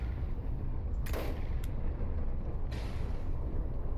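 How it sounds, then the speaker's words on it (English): Turret fire in the video game Volcanoids: two sharp shot bursts about a second and a half apart, over a steady low rumble of game ambience, with no talking. "I knew the turret would start shooting at me"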